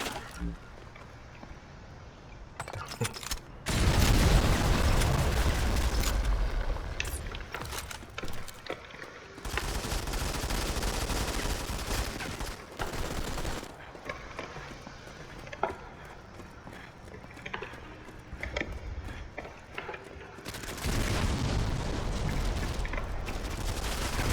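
Gunfire rings out in the mobile shooter Modern Combat 5 during a team battle, with bursts of automatic and rapid fire in repeated volleys while a player talks over the action.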